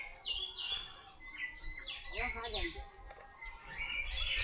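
Many birds call and chirp from a tree above a village, a busy overlapping mix of short tweets and whistles at moderate distance, with faint voices around them.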